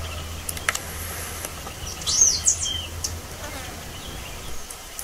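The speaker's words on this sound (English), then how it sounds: "This is a Cape robin chat." Cape robin-chat in Nairobi gives a brief, high chirping call near the middle, faint against quiet outdoor background with low steady hum and a few scattered clicks.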